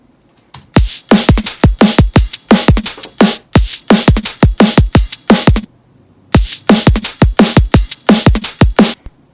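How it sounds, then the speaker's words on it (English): A punchy layered drum and bass drum loop with cymbal layers, sharp rapid hits in a steady driving rhythm, pausing briefly midway before the pattern resumes at the same pace. "So all together, the drums sound like this."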